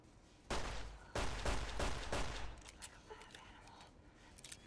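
Gunfire with armour-piercing ammo in the Fallout New Vegas video game: a quick volley of four or five sharp shots, then scattered fainter pops and clicks trailing off, fairly quiet overall.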